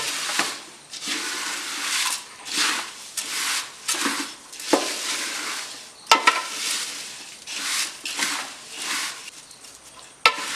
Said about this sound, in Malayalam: ഇത്ര അവലുള്ളത് കൊണ്ടൊരു 6-7 മിനിറ്റോളം ഒന്ന് ഇളക്കിയെടുക്കേണ്ടി വരും റോസ്റ്റാകണം.